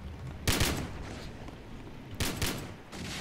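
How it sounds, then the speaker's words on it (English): Video game gunfire in Roblox comes in two loud bursts of rapid shots and rocket blasts, separated by a steady background of game noise. "He's jumping and shooting rockets."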